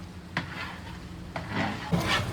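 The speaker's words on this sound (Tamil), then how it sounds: "தக்காளி வதங்கி எண்ணெய் பிரியணுமாண்ணா" Tomatoes sautéing in oil in a pan, softening with gentle frying noise and a few spoon scrapes and stirs against the pan, close and steady without speech.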